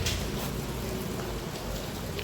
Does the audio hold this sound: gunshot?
no